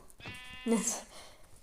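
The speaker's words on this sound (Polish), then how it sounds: "O, owca." A single sheep bleat from Minecraft, short and fairly close, with a brief second higher cry, heard under faint background talk.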